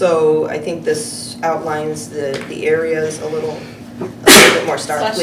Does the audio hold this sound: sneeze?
yes